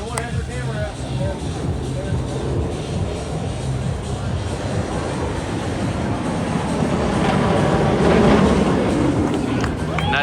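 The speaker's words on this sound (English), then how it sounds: "This right here is the final train Kingda Ka will ever send with people." The Kingda Ka roller coaster at Six Flags Great Adventure sends its final train of riders, a loud, continuous rushing roar that builds stronger toward the end, with crowd noise mixed in.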